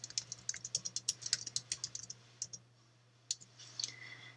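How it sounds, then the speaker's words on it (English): Close, quiet keystrokes on a computer keyboard as header text is typed into a Word document, a quick rhythmic burst followed by a pause and a few final taps over a low steady hum. "So let me just go ahead and type something in."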